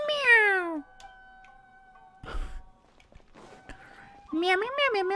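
A cartoonish cat meows repeatedly in the Genshin Impact video game, bright rising-falling calls at the start and end with a soft ticking and a low thump between, separated by quiet gaps.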